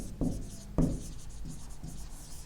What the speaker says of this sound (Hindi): तो यहां पे ये भी लिख सकता हूं